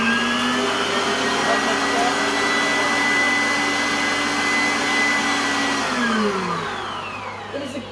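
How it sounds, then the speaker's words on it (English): Electric stand mixer whisking strawberry cake batter toward medium peaks at high speed, a loud continuous motor whine that holds steady and then drops in pitch and fades near the end. "I'm going to whisk this to medium peak consistency."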